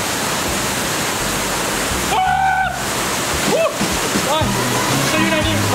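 Rushing water at a waterfall in Santo Domingo canyon gives a loud, steady roar of broadband noise filling the whole clip, with voices briefly calling out over it.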